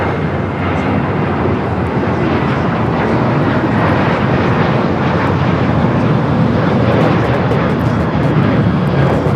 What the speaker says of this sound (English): This is Southwest Airlines 760 taking off to Phoenix on the 737-700.